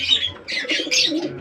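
A pair of red-splashed pigeons, male and female, in a home loft give short, bright chirping calls in several quick bursts, close and fairly loud.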